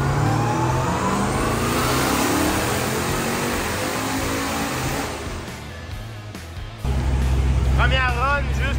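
A twin-turbo engine revs hard around 2000 rpm as boost builds and the turbos blow, a loud sustained roar that eases briefly before surging again, with voices talking over it.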